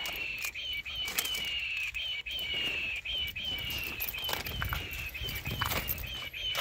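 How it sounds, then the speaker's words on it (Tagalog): A noisy bird scarer in a cabbage garden gives a steady high-pitched whine throughout, broken by irregular rattling clacks and flapping bursts, with faint bird chirps in the background. "Yan yung maingay, tagabugaw natin ng ibon, panakot"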